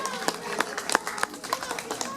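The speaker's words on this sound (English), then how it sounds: "how about a round of applause for Nemo?" Scattered audience clapping at an outdoor bird show for Nemo the parrot; light, irregular claps from a modest crowd, fairly close, with voices and murmur underneath.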